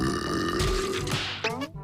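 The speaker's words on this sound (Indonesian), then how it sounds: "membuat dia bersendawa mengeluarkan suara yang cukup besar" A loud, drawn-out burp from a SpongeBob cartoon character after drinking too much, lasting nearly two seconds, close and dominant, with a rising tonal ending.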